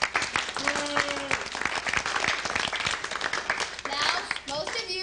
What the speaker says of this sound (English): we all owe a big round of applause to Patty Simcox and her committee